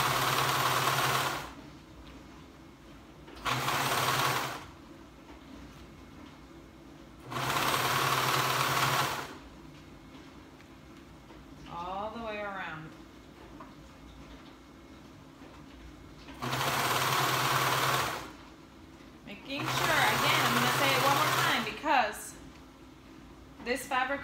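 A sewing machine stitches two stretchy fabrics together in several short, loud bursts of rapid whirring separated by pauses, with quieter handling sounds between runs.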